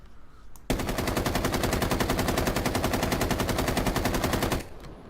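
A sustained, rapid automatic burst of gunfire from a weapon in Rainbow Six Siege runs for about four seconds, evenly spaced shots close and loud, then stops abruptly with no talk.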